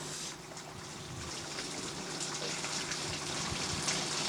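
Hot water pouring from a hose into the tank of a Bambini ice rink resurfacer, a quiet, steady rushing flow that continues unbroken.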